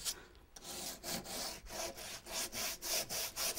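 Rhythmic scratchy strokes of sandpaper rubbing back and forth across painted wooden furniture, close up and steady, about a dozen passes with brief pauses between.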